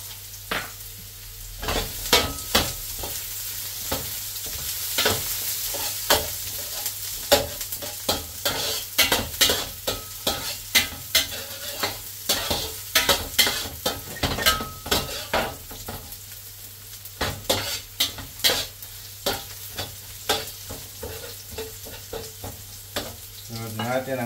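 Ginger and lemongrass sautéing in a pan for chicken tinola: constant frying sizzle broken by frequent scraping and clinking of a spatula or ladle against the pan, close and lively throughout.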